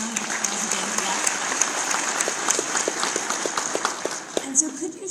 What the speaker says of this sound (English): just a quick round of applause again for that